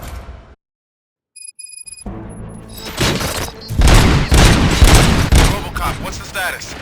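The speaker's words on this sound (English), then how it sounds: "Gunshots? What's going on?" Gunfire in the video game Robocop: Rogue City, arriving after a brief near-silent gap as a dense, loud, sustained burst of shots and booms that dominates the rest of the scene.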